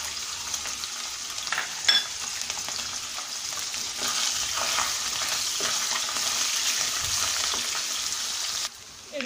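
Meat sizzles steadily in hot oil in a kadai, a dense continuous frying hiss with a few sharper spatters and stirring clicks, close and fairly loud throughout with no talking.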